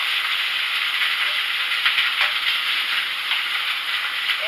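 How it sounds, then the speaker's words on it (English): Minced shrimp hitting hot oil in a pan gives a steady, loud, broad sizzling hiss that holds continuously, with faint crackles flickering through it. "You hear that sizzle?"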